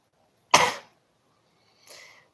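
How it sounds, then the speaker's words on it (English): Two coughs with a pause between: a loud, sharp cough first, then a softer, shorter one about a second later, with silence around them. "Sorry for the coughing."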